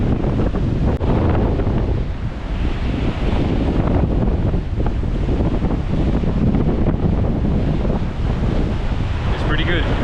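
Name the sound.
strong wind blowing at a viewpoint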